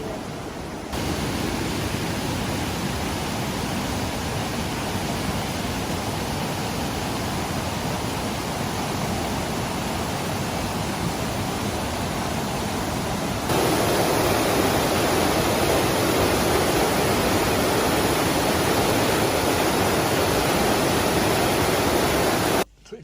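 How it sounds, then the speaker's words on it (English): Two waterfalls on the Milford Track in New Zealand roar as a dense, steady rush of falling water, loud and unbroken, growing stronger partway through as the view shifts. "2 big ass waterfalls"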